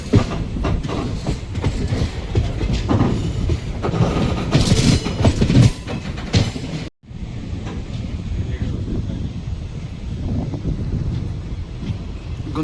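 Train rolling along the track near the Guntakal loco shed, a steady close rumble with clickety-clack of wheels and wind buffeting the microphone, briefly cut around the middle before continuing.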